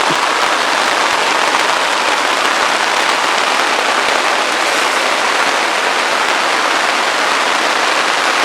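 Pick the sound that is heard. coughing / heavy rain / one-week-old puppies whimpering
heavy rain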